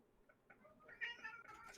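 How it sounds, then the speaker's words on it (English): A cat named Macaroni gives a faint, distant meow, drawn out and rising, heard briefly over a quiet room background. "Oh, I can hear the cat."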